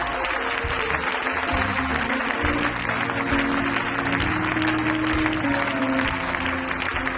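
A church congregation applauds during a worship service, a dense, steady clapping that fills the space throughout, with faint tonal sounds running underneath.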